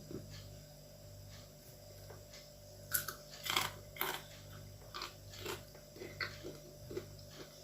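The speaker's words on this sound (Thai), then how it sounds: "ทานมะม่วงค่ะเพื่อนๆมะม่วงแช่อิ่ม กรอบ" Someone eating crisp pickled mango, close crunchy bites and chewing in a quiet room, several sharp crunches clustered near the middle followed by softer chewing.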